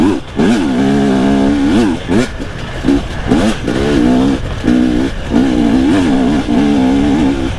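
A 2022 KTM 250 TPI two-stroke motorcycle recorded from an onboard camera, its engine loud and close, revving in repeated rising and falling bursts with brief throttle cuts and some wind noise throughout.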